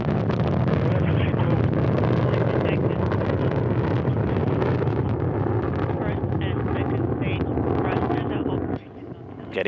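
A Soyuz rocket launches on four strap-on engines plus its core stage, a continuous broad roaring rumble that holds steady and loud for nearly ten seconds before briefly dipping, with a commentator's voice partly over it.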